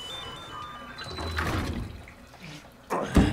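Shower water runs in the video game Death Stranding: a steady, fairly quiet hiss of running water with a louder splashing surge near the end, no voices.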